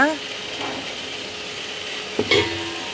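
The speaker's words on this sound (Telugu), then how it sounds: "నేను ఒక 2 మినిట్స్ వేయించుకుంటున్నాను, జస్ట్ ఆ వాసన పోవడానికి" Amaranth leaves (thotakura) fry in a pan, giving a low, steady sizzle. A utensil scrapes and clinks against the metal once near the end, and a voice is briefly heard at the start.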